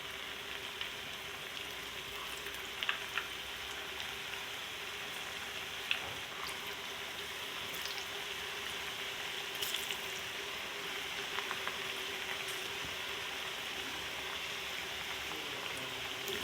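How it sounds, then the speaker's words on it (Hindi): Potato chips fry in hot oil, a steady close hiss and crackle of bubbling that holds its level throughout, with occasional small pops. "ऐसे 1 बाय 1 मैं डाल के फ्राई कर लूँगी।"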